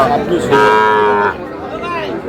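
A calf moos loudly and close in one long drawn-out bellow, followed by a fainter lowing call amid the bustle of a Noakhali cattle market where small bulls and heifer calves are sold.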